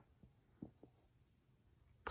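A pen or marker writes numbers on a hundreds chart, making faint, close scratchy strokes in a few short bursts with a quiet pause between them and a sharper tap at the end.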